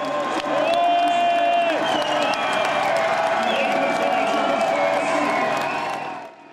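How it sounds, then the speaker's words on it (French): A roadside crowd in Braine-le-Comte cheers and applauds as the Tour de France peloton passes, a continuous swell of clapping and shouts with whistles and a commentator's voice over it, fading out at the end. "Le public explose l'applaudimètre"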